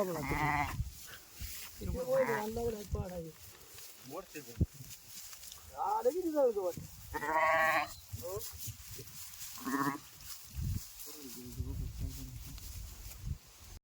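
Sheep and a young lamb bleat several times at close range, with short cries scattered through the clip amid people talking nearby.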